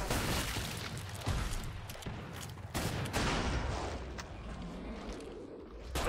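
Gunshots in the game Killing Floor 2 on the Spillway map, played as a Sharpshooter, with a few loud sharp reports over dense, noisy battle ambience, fairly close.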